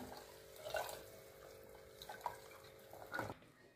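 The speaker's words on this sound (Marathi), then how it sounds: "जेवढी भाजी आपल्याला लागणार आहे तेवढं पाणी आपण यामध्ये घालून घेऊया" Lukewarm water poured into a cooking pot while making spicy shev bhaji curry, a quiet, close trickle with a few brief splashy surges and no talking.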